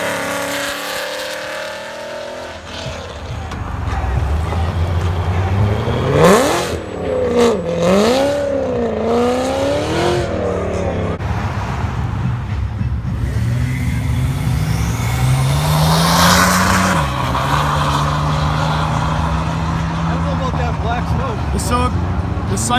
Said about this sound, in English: Now let's go watch some cars leave here.